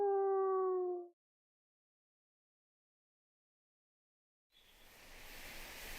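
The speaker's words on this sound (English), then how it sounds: "In response, Golf howled, high and with determination." A dog character named Golf in the game Fantasian gives a short, high tonal howl at the start, clear and alone, followed by silence and then a rising wash of ambient noise.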